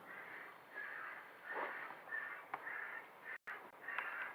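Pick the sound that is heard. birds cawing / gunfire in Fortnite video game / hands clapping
birds cawing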